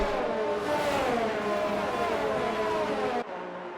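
Formula 1 cars from the F1 2019 racing game on the British Grand Prix circuit, a loud continuous engine whine rising and shifting in pitch as one car tails a Renault, cutting off sharply near the end to a quieter drone.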